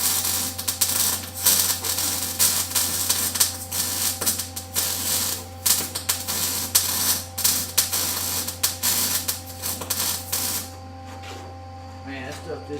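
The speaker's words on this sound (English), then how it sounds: "Man, that stuff just does not want to weld right." Welding on metal in a shop crackles and sputters in a dense, continuous rough hiss with irregular popping bursts, under a steady low hum, then cuts off near the end; someone talks over it.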